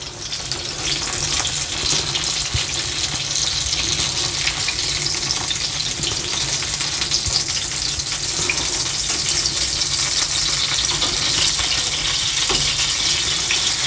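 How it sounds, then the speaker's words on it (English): Sicilian eggplant slices frying in a pan of hot oil, a dense, steady sizzle and crackle that stays loud and even throughout, with no talking. "Nicely sizzling. That temperature is just right."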